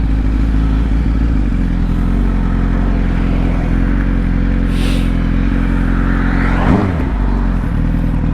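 A Suzuki GSX-R1000 sport motorcycle engine runs loud and close, its steady throaty drone rising in a brief rev near the end, with clattering mechanical noise and no talking.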